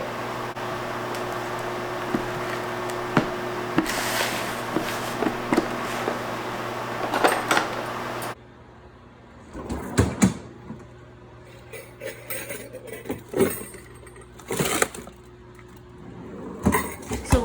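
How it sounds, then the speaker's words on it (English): Kitchen handling sounds as beaters and a bowl are taken out for icing: scattered clinks, knocks and rattles against a steady appliance hum that cuts off midway. "I'm gonna go ahead and get out our beaters and our bowl for the icing"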